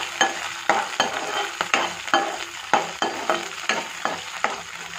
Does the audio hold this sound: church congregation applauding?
no